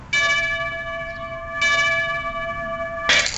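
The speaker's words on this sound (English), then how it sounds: "That sound you heard was the Liberty Bell cracking in Philadelphia." A game sound effect of the Liberty Bell in Philadelphia cracking: two loud, ringing bell strikes, each humming on with a sustained tone, then a harsh noisy crack at the end.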